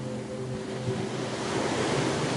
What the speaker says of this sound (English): her gaze softly focused on the gentle lapping of the waves, each one arriving at the shore with a unique rhythm and soft sound